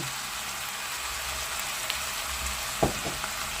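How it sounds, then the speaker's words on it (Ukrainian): Finely diced potatoes frying in a pan, giving a steady soft sizzle throughout with a couple of brief stirring clinks near the end, fairly quiet and with no voices. "Так, і ось картопля порізана такими самими зовсім дрібнесенькими шматочками. Теж додаю сюди і обсмажую."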